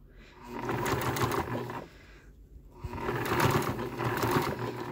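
Sewing machine fitted with a presser foot runs in two bursts while stitching along piping, a rapid mechanical whir with a short pause between the runs.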